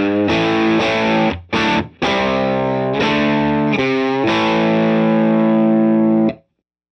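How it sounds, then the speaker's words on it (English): An electric guitar plugged straight into a real guitar amplifier plays loud, sustained, gritty chords in a steady strummed pattern with brief breaks, ringing out before cutting to silence, with no voice. "this is the sound of the real guitar amplifier, just with my guitar plugged straight into it"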